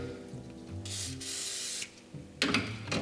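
Aerosol cleaner sprays onto a dirty engine sensor in two hissing bursts, a long one and then a shorter one, close and sharp over a low engine hum.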